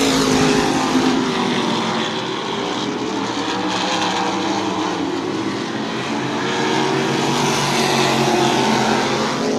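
Modified race cars roaring around New Smyrna Speedway late in a race, a continuous loud engine drone that swells and fades as cars pass, with no talk.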